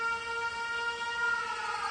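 An air raid siren in the video game 13 Sentinels: Aegis Rim wails steadily and continuously with layered tones, loud and sustained, with no voices over it.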